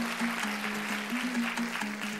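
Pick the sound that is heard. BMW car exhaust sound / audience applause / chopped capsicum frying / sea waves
audience applause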